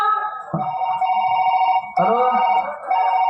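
A telephone rings in loud, steady electronic tones, close and continuous, with a brief break in the middle of the ringing.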